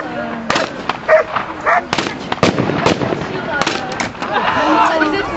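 At a municipal police demonstration, a police dog sent in by its handler barks amid sharp bangs like firecrackers, with a crowd and voices talking throughout.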